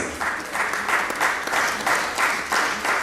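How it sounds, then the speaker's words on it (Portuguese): Applause at an Angolan independence anniversary thanksgiving church service in London, a sustained crowd clapping that swells in regular rhythmic pulses as the audience claps together in time. "Nós estamos a aplaudir"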